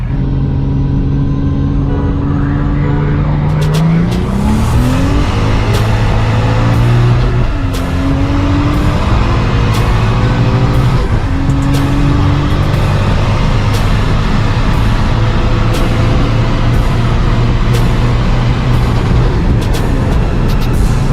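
A Toyota Mark II JZX90 accelerating hard in a roll drag race from 100 to 200 km/h against a motorcycle, its engine droning loud and close, the pitch climbing and dropping through several gear shifts.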